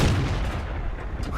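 A T 82 tank gun fires in a video game, a single heavy boom with a rumbling decay, loud and close.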